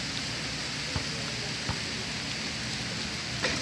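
Steady rain falls as a constant hiss, with a few faint drips and thuds standing out.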